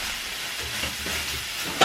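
Peppery mushrooms frying in a pan at breakfast, a soft steady sizzle running throughout with faint stirring scrapes and a sharper clatter at the very end.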